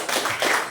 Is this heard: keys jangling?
no